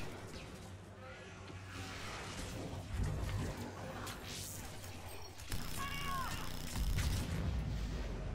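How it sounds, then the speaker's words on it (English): Particle rifle fire in the Mass Effect 3 multiplayer game, a steady stream of electronic shots and impacts amid busy battle sounds, with someone talking over parts of it. "I have to shoot at nothing every now and then to spin up the particle"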